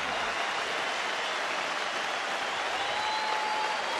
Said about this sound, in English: this Fenway crowd will come to their feet for John Lackey in what has been a tremendous outing.